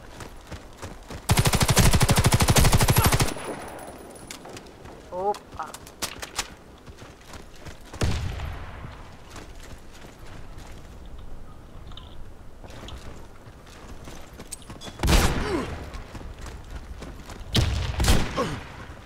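Gunfire in the Warface online shooter: a long loud automatic burst, then scattered shots and later bursts, with a player talking over the game sounds.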